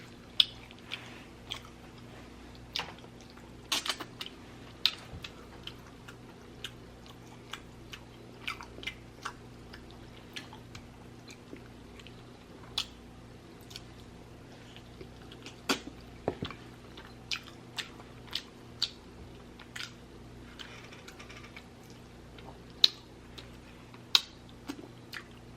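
Oxtails in gravy being eaten in a mukbang, with quiet, close, scattered wet chewing clicks and smacks over a faint steady hum, no talking.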